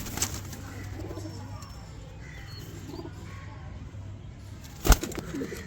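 Gulab Sire pigeons, a Kiratpur-bred strain, coo softly in a low steady murmur, with a sharp burst of wing flapping close by near the end.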